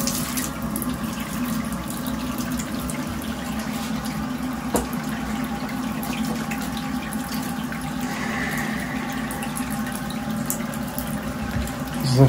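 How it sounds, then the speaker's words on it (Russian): Water runs from a tap in a plumber's work setting, with hands being washed under it. The stream is loud and unbroken, a steady rushing hiss for the whole stretch with no talk over it. "Закрываю воду."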